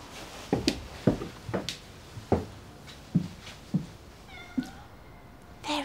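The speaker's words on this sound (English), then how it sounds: "It's kittens." Kittens meow several times in a row, faint high cries scattered among soft knocks and thumps, with a clearer, more tonal mew toward the end.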